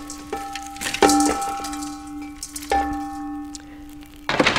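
Metal food dehydrator trays clang and ring a few times, leaving bell-like tones that hang in the air between irregular knocks.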